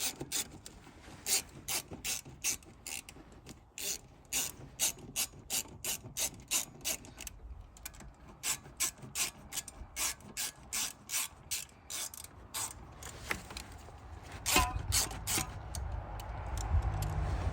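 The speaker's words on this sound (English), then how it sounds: "3/8 ratchet. It's just a shorty one. That way I could just get the stuff like hand tight or whatever." A short 3/8 ratchet tightens exhaust manifold bolts on a Mercedes Sprinter 2.1L, giving long runs of quick, close metallic clicks in steady bursts, with a brief pause and some scraping and handling noise near the end.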